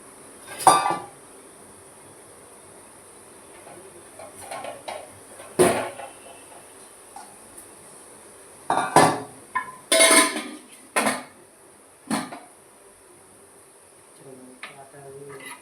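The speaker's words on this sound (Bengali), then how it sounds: "বাটিতে ঢেলে দেব।" A few sharp clinks and scrapes of a utensil against a bowl as fried potatoes are transferred, spaced out with quiet gaps and a steady high hiss in the background.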